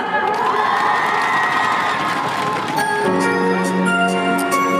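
Outdoor concert crowd at a nursing policy event in Gwanghwamun Square, loud cheering and shouting with high excited voices, joined partway through by bright sustained music tones over the crowd noise.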